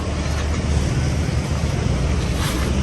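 Loud, steady wash of waves and wind with rumbling water noise from a small outrigger boat (bangka) riding choppy sea near Camara Island, Zambales, Philippines, no voices.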